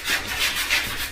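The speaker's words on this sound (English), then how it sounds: "So you're just sanding it back to the primer" Rhythmic sanding strokes scrape back and forth on a Schwinn Cruiser bicycle frame, taking black paint back to the primer, three or four passes, close and moderately loud with a gritty rasp.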